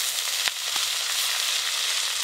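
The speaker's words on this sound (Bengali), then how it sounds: "এবার কেটে ধুয়ে রাখা শাক দিয়ে দেবো" Kolmi water spinach greens frying in a pan with well-browned onions, a steady close sizzle with a few stirring knocks and no talk.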